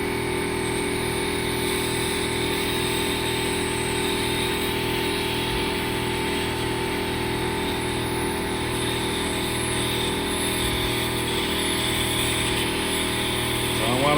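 An engine with constant-flow mechanical fuel injection runs steadily with a rhythmic, throbbing idle, loud and close, while the pump pressure is adjusted.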